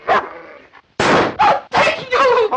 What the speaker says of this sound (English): Get rid of that dog.